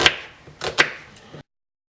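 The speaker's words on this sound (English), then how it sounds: "we cut the onion" A few sharp knife chops cutting an onion on a cutting board, three quick strikes spaced unevenly, close by, then silence.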